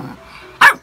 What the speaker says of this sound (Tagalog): baliw na aso na si Lucky.